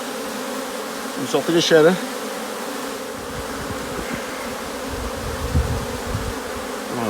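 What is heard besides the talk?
honey bees swarming around hives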